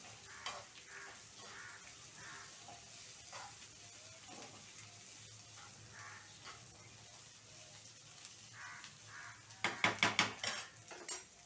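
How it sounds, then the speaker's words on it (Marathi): Oil frying and sizzling for a tomato chutney, with frequent metal clinks of a spoon against the pan throughout and a louder burst of clattering near the end. "आता हे आपलं ना चांगलं तेलामध्ये फ्राय होतंय"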